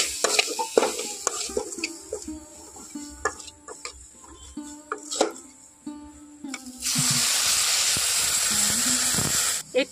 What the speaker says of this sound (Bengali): এখন এই সবগুলো উপকরণ খুব ভালোভাবেই কিন্তু একটু কষিয়ে নিতে হবে।